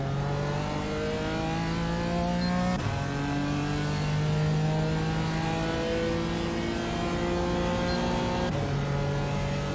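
A NASCAR race car engine in a video game at Phoenix drones loud and steady, revs climbing through the gears with brief drops at each shift, continuous with no talking.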